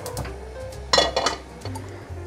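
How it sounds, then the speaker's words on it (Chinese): Sliced king oyster mushroom strips are dropped into a kitchen bowl, making a few quiet clinks and light taps in a short cluster, close and faint. "把杏鲍菇放入碗中"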